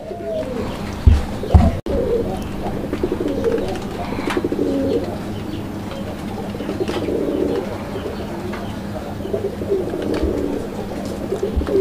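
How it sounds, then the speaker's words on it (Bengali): A pair of black desi raj golla pigeons coos in a low, continuous throaty drone, close and steady, with a brief thump of movement early on. "এটাও কালারিং রাজগোল্লা কবুতর একটা জোড়া"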